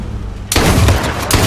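Gunfire bursts out in a battle royale video game, a sudden loud rapid volley of shots after a quiet half-second, with a second burst near the end.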